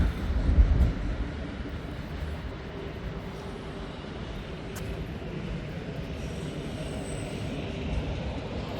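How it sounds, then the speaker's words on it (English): Steady rumble of the end of a train rolling past at moderate distance in downtown Green River, Wyoming, a continuous broadband roar with a slight swell near the start and end, no voices. "Here he comes at the end of this train"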